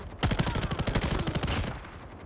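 Rapid gunfire from Call of Duty Mobile, a dense run of loud automatic shots in quick rhythmic bursts lasting about a second and a half before trailing off, with no talk.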